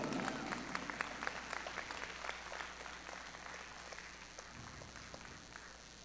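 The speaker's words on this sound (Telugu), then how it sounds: "గట్టిగా చప్పట్లండి" Audience applause at the TANA 2017 convention during an honoring ceremony: a dense, steady wash of many hands clapping that keeps up for the whole stretch and eases slightly toward the end.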